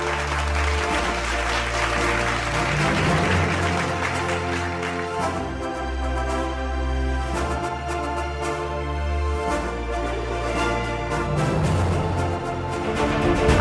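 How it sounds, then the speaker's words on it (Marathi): Audience applause welcoming a Tejaswini award winner at an awards ceremony: sustained, dense clapping from a large crowd lasting the whole stretch, loud and steady. "जोरदार टाळ्या वाजवू त्यांच्यासाठी."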